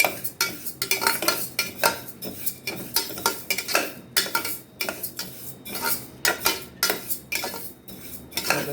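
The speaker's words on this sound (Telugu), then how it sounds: "ఇట్లా వేయించాలండి" A metal spoon scrapes and knocks rhythmically against a pan while moong dal (pesarapappu) dry-roasts over low heat, a steady run of close clinks and rattling strokes with no talking.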